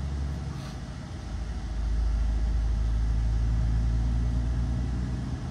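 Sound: Volkswagen Meteor 29.520 6x4 truck engine driving

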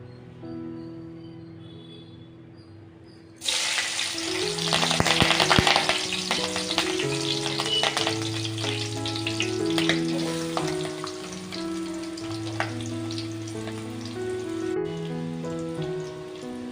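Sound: eggplant frying in oil with curry leaves

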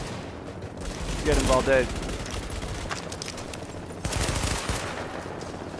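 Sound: gunfire in video game Tom Clancy's The Division

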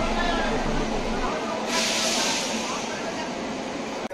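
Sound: train arriving at the station, WAP-7 locomotive

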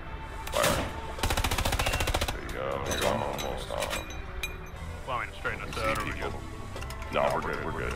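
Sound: Luchs tank firing its gun, from the video game Hell Let Loose

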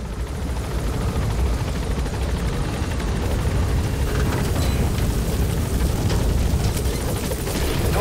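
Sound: enemy helicopter patrolling in the distance, from a video game Metal Gear Solid V

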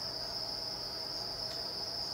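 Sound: crickets chirping

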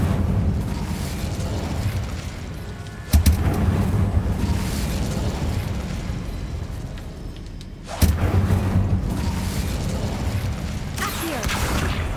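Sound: Incendio fire spell blast in the video game Hogwarts Legacy

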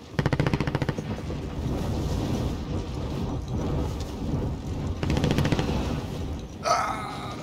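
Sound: gunfire in the video game Warzone

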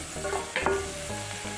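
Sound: potato pieces frying in ginger garlic paste

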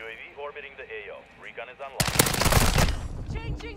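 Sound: assault rifle gunfire in video game Call of Duty MW2

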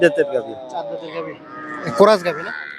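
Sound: cow mooing at a cattle market

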